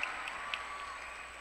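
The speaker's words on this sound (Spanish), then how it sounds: "el aplauso para María Fernanda" An audience applauds at a national club gymnastics championship during an awards ceremony, a steady moderate patter of clapping with a couple of brief sharper claps, heard from a distance in a large hall.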